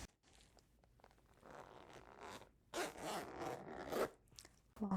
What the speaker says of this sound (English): long zipper